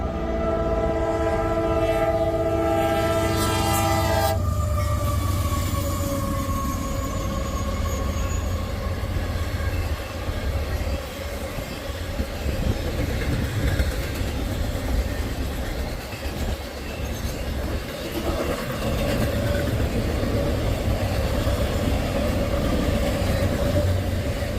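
An intermodal freight train passes close by, opening with a loud multi-tone horn blast before the heavy rumble and rolling clatter of cars carry on steadily.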